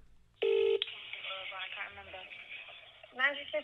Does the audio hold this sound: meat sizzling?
no